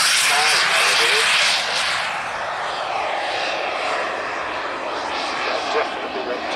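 A large RC turbine jet model of a Vulcan bomber roars overhead, its loud, whooshing engine sound sweeping past and then fading into the distance, with no talking.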